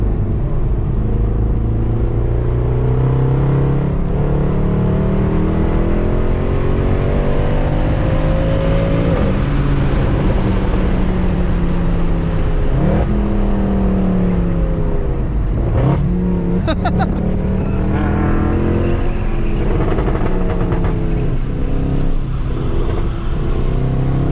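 A 550 hp Mercedes C63 AMG V8 revs hard through rising and falling gear sweeps while sliding, loud and close throughout with a few sharp pops.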